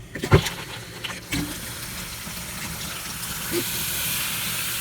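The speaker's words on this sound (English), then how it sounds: "let's turn that water back on." Water from a sink faucet gushes steadily after the cold-side valve stem is turned back on, a continuous hiss and rush that follows a couple of brief clunks at the start, fairly close.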